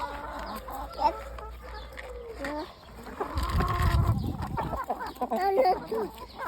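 Bresse chickens cluck and chatter close by while pecking at feed, a steady stream of short calls with a louder flurry midway, and a voice is faintly heard among them.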